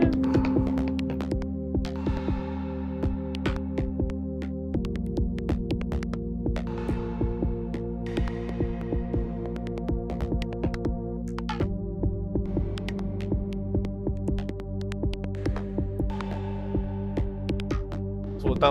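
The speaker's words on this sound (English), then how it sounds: "So that was just me just vibing off the actual sound that Prophet is giving me." Looping jam on the Arturia Prophet-5 V software synthesizer: sustained layered chords with a pulsing low bass and repeating plucked accents, steady and fairly loud throughout with shifting harmony every few seconds, no voices.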